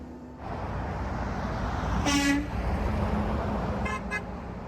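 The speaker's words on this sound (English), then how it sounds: "I got a lot of honks from truckers and cars" Car and truck horns honking at a roadside protest over steady passing traffic: a longer toot near the middle, then two short quick honks toward the end.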